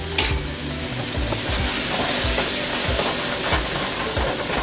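Yellow curry with taro sizzles and crackles steadily in a hot pan, with occasional stirring scrapes and clinks close by.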